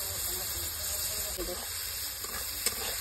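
Soaked soybean chunks and green chilli fry in a pan with a steady, fairly quiet sizzling hiss and a few soft pops, while a person talks over it.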